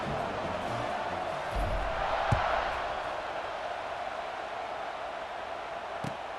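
Stadium crowd noise from the NCAA 26 college football video game, a steady broad roar with a brief swell in the middle and a couple of short thumps, no one talking.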